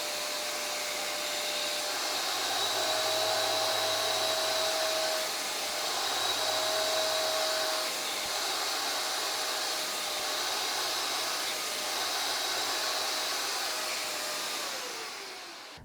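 UWANT Y100 spot cleaner working on a crayon stain in a rug, a steady motorized suction whine with brief drops in pitch as the nozzle passes, moderately loud and continuous with no talking.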